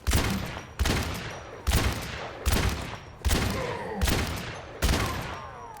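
Rhythmic bursts of gunfire in the video game Overwatch, about seven heavy shots spaced roughly 0.8 seconds apart, each a loud sharp blast trailing into a ringing decay, with faint game effects between them.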